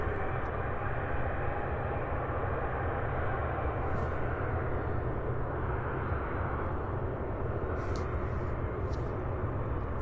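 An MD-11 jet taxiing at Louisville airport gives a constant loud engine rumble and whine, steady throughout with no talk over it.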